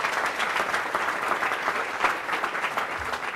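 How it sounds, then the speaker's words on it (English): Audience applause at a public health talk, a sustained, dense crowd clapping with a lively uneven rhythm, moderately loud and continuing without speech. "You should clap for yourselves"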